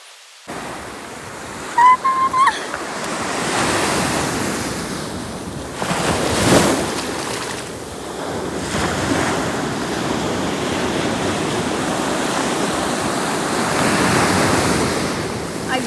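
Big ocean waves surge and wash onto Rock Beach in Pondicherry, a broad continuous roar of surf with swelling crests, steady and fairly loud, mixed with wind buffeting the microphone and a few brief clicks early on.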